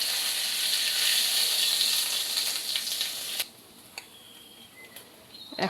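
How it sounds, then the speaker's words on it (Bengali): Nigella seeds (kalo jeera) sizzle loudly in hot oil in a wok, a bright steady hiss that cuts off abruptly partway through and leaves quieter scattered crackles. "এখন আমি কড়াইতে দিয়ে দিচ্ছি কালো জিরে"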